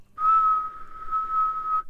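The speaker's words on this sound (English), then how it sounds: "Imagine that I was whistling a single tone, like this." A person whistles one steady, pure tone for nearly two seconds, close and clear, with no talking.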